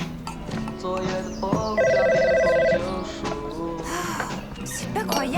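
A telephone rings indoors in a dubbed French drama scene, an electronic trilling ring lasting about a second amid background music and other sounds.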